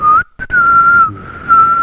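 A person whistles a steady, loud, close tone that breaks off briefly and resumes while trying to hum at the same time, with the whistle clearly dominating the mix.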